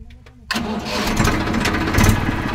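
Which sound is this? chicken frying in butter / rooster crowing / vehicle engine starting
vehicle engine starting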